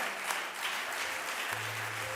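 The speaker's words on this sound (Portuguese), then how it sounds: "Alguém bata palmas para Ele." A church congregation claps hands in worship, a dense, even wash of applause that holds steady from start to finish, with a low musical tone rising underneath partway through.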